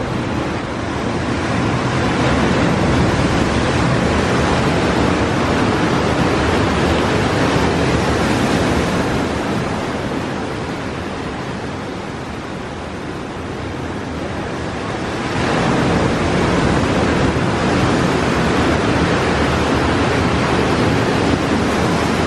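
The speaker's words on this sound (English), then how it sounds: "listen to the sounds of the ocean" Steady ocean surf washing onto a sunny morning beach, heard from a deck, with a continuous broadband roar that dips briefly in the middle before swelling back, wind buffeting the microphone throughout.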